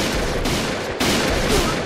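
A PGM Hecate II sniper rifle fires in the video game Point Blank, with two or three heavy booms that are close and loud over continuous game background noise.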